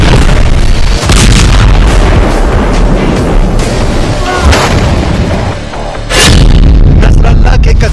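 Rocket attack explosions in Israel, with a strike on an IDF headquarters in Kiryat, captured in news footage: loud, continuous rumbling blasts with heavier booms bursting out near the start, middle and toward the end.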